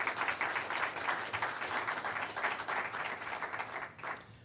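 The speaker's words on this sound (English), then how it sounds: "Will you help me give my friend Daryl a round of applause?" Audience applause at a college building announcement, a steady wash of many hands clapping at moderate distance, fading toward the end.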